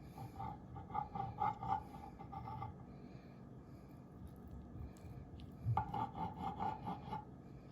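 A knife cuts chicken wings for chicken lollipops with faint, close rasping and scraping strokes, heard in two bursts of rapid repeated rubbing separated by a quiet pause.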